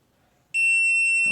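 After a quiet moment, a sharp electronic beep from a Kwikset Obsidian smart door lock during a factory reset sounds loudly and holds steady, close by, with a faint rustle near the end.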